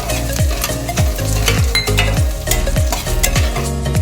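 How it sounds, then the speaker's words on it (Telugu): Roasted peanuts and garlic frying in a pan, a loud continuous sizzle with rapid clattering stirring scrapes throughout, close by and with no voices. "ఇప్పుడు దీనిలో ఈ వేయించిన పల్లీలే దీనిలో మళ్ళీ వేసుకొని కొద్దిగా వేయించుకోవాలి"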